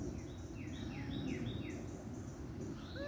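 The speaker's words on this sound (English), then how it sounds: "if you listen close, I can hear birds all over the place." Wild birds chirping and calling outdoors, faint and distant, with repeated short chirps over a dense bed of low background noise.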